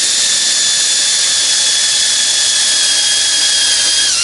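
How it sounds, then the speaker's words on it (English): A loud, steady high-pitched whine of a drill press bit boring continuously into wooden boat spars, with the pitch dipping slightly at the end. "my drill press does not have enough sort of up and down movement to actually drill all the way through"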